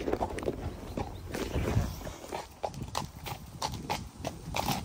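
Hooves clop at a walking pace, each step a crisp knock in an even rhythm, close by with some rustling between steps.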